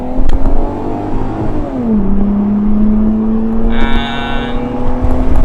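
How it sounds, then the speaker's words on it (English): A Lexus IS 200 accelerates hard at full throttle along a road, its engine note climbing steadily, dipping as the automatic kicks down, then rising again in a loud, close drone with a brief high whine near the end. "I'm going to wait for that car to go and foot to the floor"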